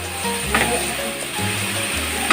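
Beans and carrots sizzle in a small pan as they are stirred, a steady frying hiss with soft scraping and clinking of the utensil against the pan.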